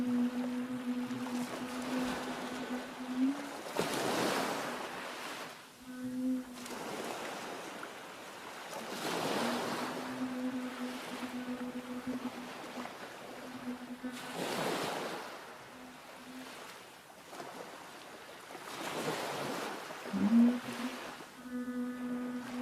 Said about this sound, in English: Feel the sound of water.